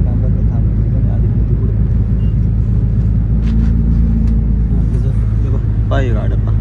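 Inside a moving bus on a road trip, a deep engine rumble and road noise drone steadily throughout, loud and close, with brief faint sounds and chatter surfacing near the end.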